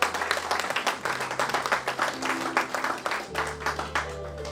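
Church congregation applauding throughout, dense rhythmic clapping with a steady sustained hum or organ tone underneath, moderately loud and without speech.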